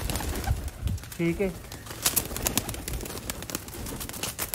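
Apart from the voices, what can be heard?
pigeons cooing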